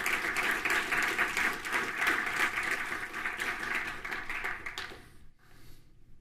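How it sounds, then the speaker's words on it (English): Audience applause at a programming conference talk, dense steady clapping from a large crowd that carries on for about five seconds, then drops away abruptly to near silence. "First round of applause"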